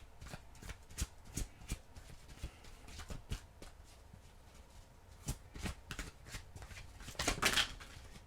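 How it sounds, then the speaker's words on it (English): Oracle cards are shuffled by hand in a run of soft, quick riffling slaps, irregularly spaced and growing denser toward the end, close and fairly quiet with no speech. "let me get your other oracle card here so I can get you out of here"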